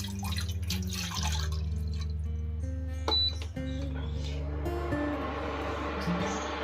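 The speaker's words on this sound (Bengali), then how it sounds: "জলটা দিয়ে দেবো।" A mug of water is poured into a cooking pot, a splashing, trickling flow with a few clinks of metal, fairly close and moderate in level, no voices.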